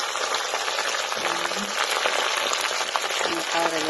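Meat frying in a pot for Samarkand-style plov gives a steady, close sizzle and crackle throughout, with brief faint tones briefly riding over it.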